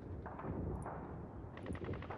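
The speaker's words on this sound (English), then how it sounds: "You hear gunfire in the background." Faint bursts of distant gunfire form background ambience for a sci-fi tabletop roleplaying scene set in a lab, with rapid shots rising slightly near the end.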